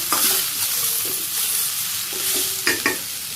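Pieces of ash gourd frying in a pan, with a steady bright sizzle and the scrape and clack of a spoon stirring them every so often, heard up close without talk.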